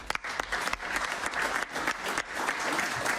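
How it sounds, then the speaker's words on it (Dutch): Steady audience applause for a former Olympic rower, a dense, even wash of clapping lasting a few seconds with a couple of sharper individual claps standing out near the beginning. "Maak een applaus voor Jan van der Bij."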